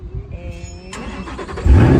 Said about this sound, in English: This engine you hear, yeah?